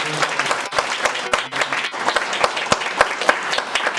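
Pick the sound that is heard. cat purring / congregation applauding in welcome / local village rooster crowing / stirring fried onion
congregation applauding in welcome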